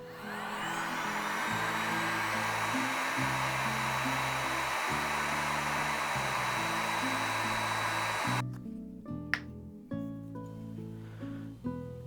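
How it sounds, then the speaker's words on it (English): A heat gun blows a steady, loud whooshing hum for about eight seconds while heating pitch to set a sword pommel, then cuts off, leaving a few faint workshop clicks and knocks. "we're going to go ahead and heat our pitch up with the heat gun and get our pommel set in"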